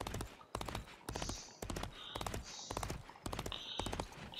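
Horse hooves clip-clop in the Disney Infinity Lone Ranger video game, a quick, rhythmic run of crisp hoofbeats at a steady canter, with brief higher tonal game sounds between them.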